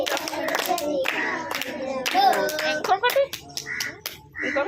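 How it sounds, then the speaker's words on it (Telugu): Children at a Telugu Sunday school clap their hands while singing a devotional song, with sharp claps scattered between and under the children's singing voices. "చేతులెత్తి చప్పట్లు కొట్టి చాటెదను"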